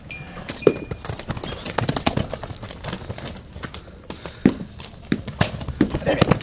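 Horse driven uphill, irregular clopping hoofbeats on the ground growing louder and more frequent toward the end, heard beneath people talking.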